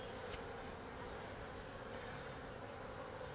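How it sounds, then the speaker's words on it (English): Honey bees buzz on a hive frame during a beekeeping inspection, a steady close droning hum that holds without a break and has no talking over it. "Get those bees off there."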